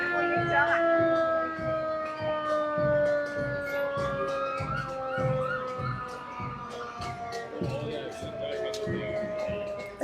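A police car siren sounds at the Toronto Santa Claus Parade, its steady tones holding under a crowd's constant chatter, with drum beats from a marching band nearby throughout.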